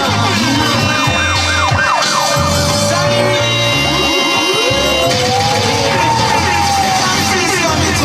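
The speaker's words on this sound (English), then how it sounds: "Siren, can you hear it? The cops is coming to get you." A loud, wailing emergency siren effect plays on a radio broadcast, several rising and falling tones overlapping over a pulsing bass music bed that continues steadily throughout.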